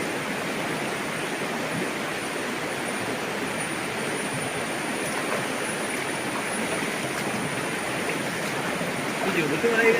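Cold mountain water flows steadily in a forest stream, a constant broadband rush with no pauses, close by and fairly loud throughout, with no talk over it.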